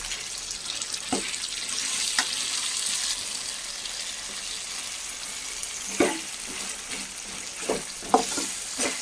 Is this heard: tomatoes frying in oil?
yes